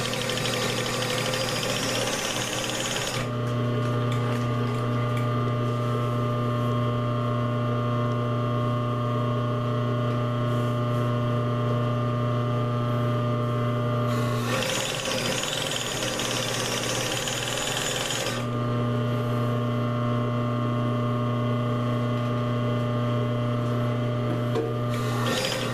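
A sewing machine stitches a hem in two steady motorized runs with a short pause between them, its hum and rapid needle rhythm close and continuous, alone without talk.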